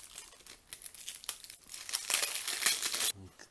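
A hard vape box-mod case with a velcro fastener is opened: soft crinkling and handling noises lead into a loud tearing rip of the velcro, which stops abruptly.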